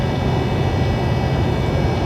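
An airplane flies over an interstate, a loud, steady, low rumbling roar heard over constant road noise, with no voices.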